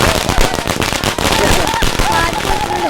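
Diwali firecrackers, atom bombs and Lakshmi bombs, go off in a dense, loud run of rapid crackling blasts during a film scene, with voices shouting over the bangs.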